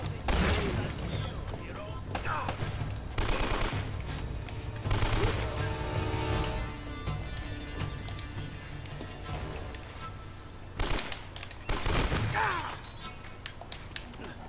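Gunfire in the video game Uncharted comes as several loud, sharp bursts scattered across the stretch over a constant background din, with a voice talking at times.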